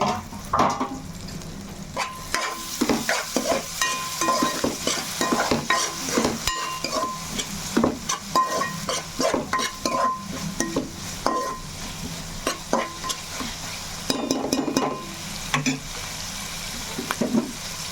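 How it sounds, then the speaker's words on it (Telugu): Onions sizzling in a hot pan while being stirred with a utensil, with steady frying hiss broken by frequent scraping and clinking strokes, heard up close with no talking. "ఉల్లిపాయ అయితే మనకి బాగానే వేగింది."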